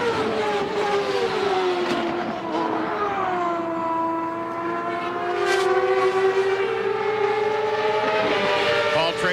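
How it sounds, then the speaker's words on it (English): Race car tires squealing through a corner during CART qualifying at Chicago in 1999, a loud sustained tonal whine that bends down and back up over steady engine roar, heard alone without talk. "you can hear from mid-corner out towards the exit, the tires squealing"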